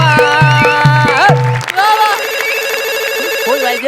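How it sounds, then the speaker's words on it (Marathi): A telephone rings in a comedy scene, several short repeated electronic rings at first, then a sustained ringtone melody, with voices over the ringing. "फोन वाजला."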